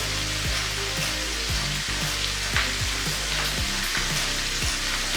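Butter melts and sizzles in bacon fat with cabbage in a pan, giving a dense, steady frying hiss with repeated soft sweeping pops, loud and close with no talking.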